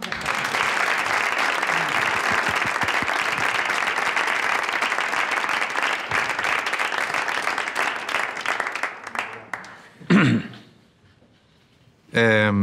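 An audience at a Spanish-language teachers' event applauds for José Ángel, a dense, steady wave of clapping that runs loud for about nine seconds before thinning out; a voice follows briefly, then a final burst of sound.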